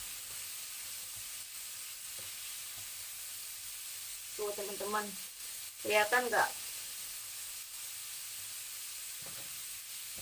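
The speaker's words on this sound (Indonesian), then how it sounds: "ini bentar lagi mau saya angkat karena saya goreng setengah matang aja ya" Frozen chicken popcorn fries half-done in hot oil with a steady, faint sizzle throughout, while a person talks briefly over it.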